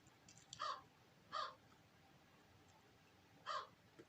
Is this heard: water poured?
no